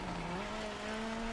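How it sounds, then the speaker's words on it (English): Racing wheel force feedback motor whirring steadily during a sim rally stage, a faint continuous mechanical hum with a slowly rising tone, picked up through a microphone over game car noise, without speech. "That's my force feedback going, and I am really trying to wheel this car."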